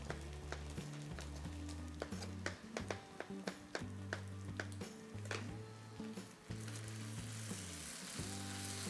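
Onions, cooked to dark brown, fry steadily in a pan with a dense sizzle, punctuated by sharp clinks and scrapes of a utensil, with a low tonal hum running underneath.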